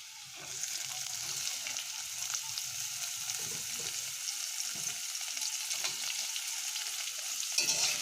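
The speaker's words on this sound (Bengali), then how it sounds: "এবার আমরা পেঁয়াজগুলো লাল লাল করে ভেজে নেব।" Chopped onions hiss and crackle in hot oil alongside fried potatoes in a pan for a homestyle cabbage curry, a steady close sizzle with faint scraping stir sounds underneath.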